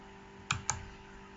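Two quick, crisp clicks a fraction of a second apart, close and quiet, from a computer mouse or keyboard while working in Blender 2.8.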